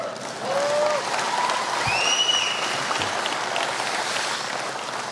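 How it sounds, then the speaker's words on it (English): A crowd claps and cheers at an outdoor political rally for a Trump event in Potterville, Michigan, with steady loud applause throughout and occasional whistles rising over it. "Yeah, you can applaud that."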